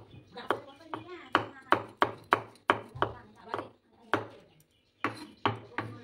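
Green chilies finely chopped on a board, a close run of sharp knife taps in quick, fairly even rhythm with a short pause before a few more strokes, with a voice faintly present.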